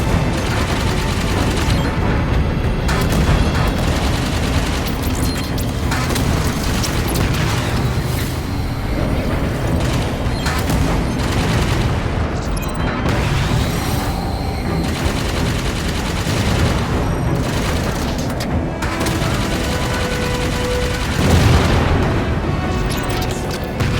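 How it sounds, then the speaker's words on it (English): Gunfire in Halo 5: Guardians during a Blue Team mission, with shots aimed at reactor coolant pipes. Loud, continuous weapon fire and heavy booms run through the whole stretch without a break. "Keep firing on those coolant pipes!"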